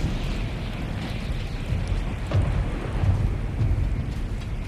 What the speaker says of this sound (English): Just a little thunder.